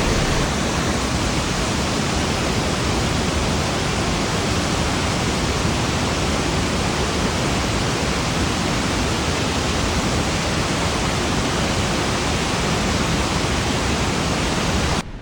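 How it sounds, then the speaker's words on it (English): Water rushes through the open gates of Great Falls Dam on the Caney Fork River, a loud, unbroken roar that holds steady throughout with no voices. "a lot of the doors are open, letting a lot of the water come in from the Caney Fork River"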